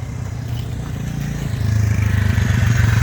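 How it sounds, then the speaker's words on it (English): A 1975 Honda XL350K1 motorcycle idles nearby with a low, soft exhaust rumble whose throb thickens slightly partway through, steady and alone. "Nice little exhaust rumble."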